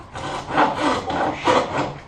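A hand saw cuts through very thin plywood for a constructed sculpture in about three even, rasping strokes, close and moderately loud.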